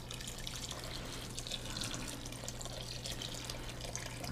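Tap water runs steadily to rinse flour into a pot while making beef stew, a soft continuous stream with faint splashing over a low hum.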